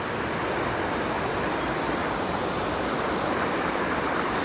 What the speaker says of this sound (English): check out all the water that is coming down from the mountains